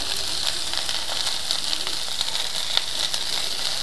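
Bean sprouts stir-frying in a pan, a steady bright sizzle with faint crackles and occasional pops throughout, no voices.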